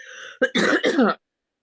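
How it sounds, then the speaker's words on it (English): A single close cough, a sharp throaty burst with a brief raspy follow-through, preceded by a faint tonal hum and ending in silence. "I cough a lot, but I'm not sick."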